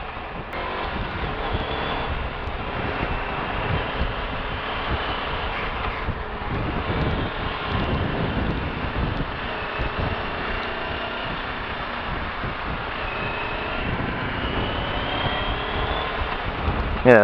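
Sinnis Terrain T380 motorcycle rounding a roundabout, its engine droning steadily under heavy wind rush against the microphone, with no break in the noise throughout.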